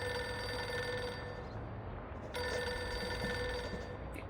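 Telephone ringing on an assistant's desk: steady electronic ringing fills the moment loud and continuous, with a brief dip around the middle before it resumes, no voices over it.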